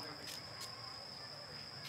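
Crickets in grass in the Guizhou countryside keep up a faint, steady high trill, with soft broadband rustles drifting in now and then.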